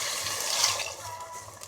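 Stock pours into a pan of Chicken Manchurian gravy with a soft, close, continuous liquid splash that swells briefly and then settles to a gentle trickle.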